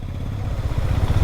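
A motorcycle engine putters close by in a low, uneven throb with light mechanical clatter, holding steady for a moment with no talk.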